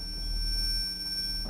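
Flashbang stun effect in the Rainbow Six Siege video game: a sustained high-pitched ringing tone over a low hum, steady and loud for the whole moment, with no voices.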